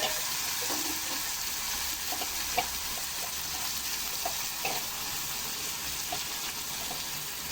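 Greens (bhaji) frying with onion in a pan, a steady soft hiss of sizzling oil with scattered faint crackles and light stirring taps.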